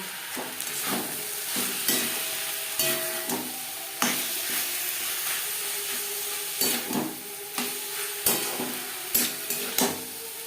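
Spices for a chicken momo filling stir-fry in a pan, a steady sizzle broken by repeated scraping strokes of a spatula and light clinks against the pan, close and continuous with no talking.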